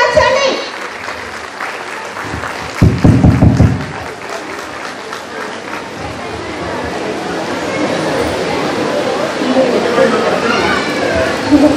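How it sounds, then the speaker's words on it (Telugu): An audience applauds loudly at an event: a dense, steady wash of clapping fills the whole stretch, swelling briefly near the start, with a voice speaking over it. "గట్టిగా క్లాప్స్ అండి."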